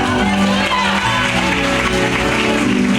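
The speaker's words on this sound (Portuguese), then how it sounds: "Aplauda o nome dele." A church congregation applauds during a sermon. Steady, fairly loud clapping and crowd noise fill the whole short stretch, with music or voices humming underneath.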